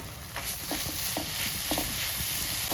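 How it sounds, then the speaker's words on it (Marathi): Jaggery and grated coconut being stirred in a pan for modak filling, a soft scraping and sizzling texture with a few light spoon clicks, steady and fairly quiet. "आणि सतत ढवळत राहायचं."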